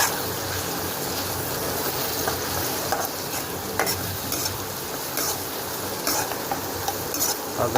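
Onions frying in a pan for an Agri-Koli style spicy crab curry, a loud continuous sizzle with repeated scrapes and clacks as they are stirred, close by and with no talking.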